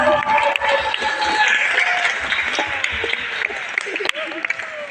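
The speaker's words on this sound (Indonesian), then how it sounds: "Tepuk tangan buat kita semua." Applause from a young audience at a Hari Anak NTB children's day talk in a youth hall, continuous clapping filling the room for several seconds with chatter and voices mixed in.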